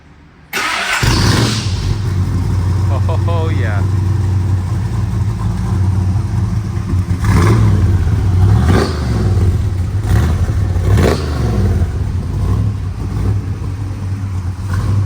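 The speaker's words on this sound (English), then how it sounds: "We'll start it for you, guys." A vintage Ford Bronco engine cranks and catches, then settles into a loud, rumbling idle with several sharp revs blipping up and dropping back.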